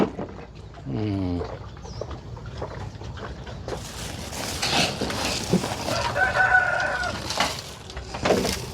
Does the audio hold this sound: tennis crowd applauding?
no